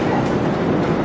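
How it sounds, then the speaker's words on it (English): Spirit of Queensland passenger train bound for Cairns rumbles along steadily, a loud, continuous rolling rail noise with no pauses. "Ahead of us right now is the Spirit of Queensland train heading to Cairns"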